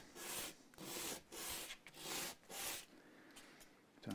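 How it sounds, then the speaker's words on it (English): Coarse sandpaper rubbed back and forth across the wood of a Bristol by Saga acoustic guitar, close up, in rhythmic rasping strokes of about half a second each with brief pauses between them. "So I'm doing a bit of a rough sandpaper there."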